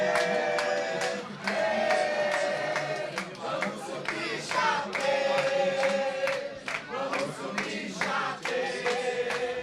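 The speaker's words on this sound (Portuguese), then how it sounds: "levando a torcida à loucura e entoando aquele hino" Chapecoense fans in a football stadium cheer and chant the club anthem after a late equalizer against Volta Redonda, a loud, continuous crowd roar with sustained sung tones rising and falling across the whole stretch.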